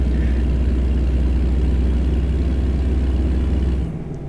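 A truck engine in a driving simulator game, with the engine already damaged, drones at a steady low rumble, loud and close, then drops away abruptly near the end.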